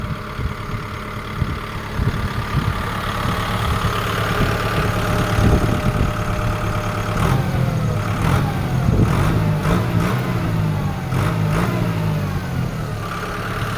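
A 2023 Kubota M6040 tractor diesel engine idles steadily up close, a continuous low rumble with mild surges in revs and no speech.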